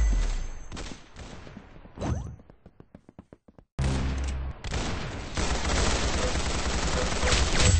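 Rapid gunfire from the Roblox game Arsenal: a loud burst of shots, a string of evenly spaced single cracks, then sustained dense firing and action noise to the end.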